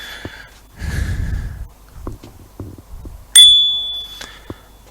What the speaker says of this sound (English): There's also a bell,